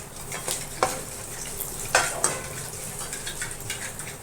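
Grated coconut and peanuts are stirred and fried in a pan for makhana chivda, with steady sizzling under repeated sharp scrapes and clinks of a spoon against the pan.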